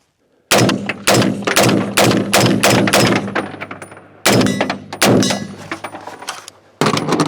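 An AR-15 rifle firing at an outdoor range in rapid bursts of loud, sharp shots, a string of several quick reports, a pause, then more shots with ringing echoes between them and no talking.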